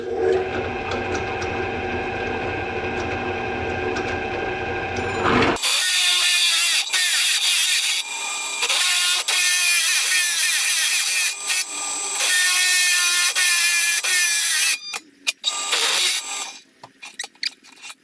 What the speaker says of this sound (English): Now let's go ahead and gouge out these holes.